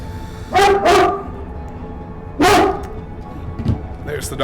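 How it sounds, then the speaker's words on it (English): A pet dog named River barks indoors in a room: two quick loud barks, a pause, then another sharp bark, with a quieter yip near the end over low background noise. "There's the dog."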